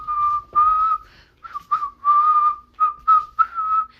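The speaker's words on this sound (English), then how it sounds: "he's just whistling" A person whistles a bright tune in short melodic phrases with brief pauses between them, close and clear with no other sounds.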